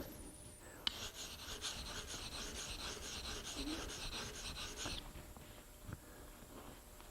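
A relief carving tool blade is stroked back and forth on a sharpening stone, making a close, steady rasping scrape for about five seconds before it stops, followed by faint handling noises.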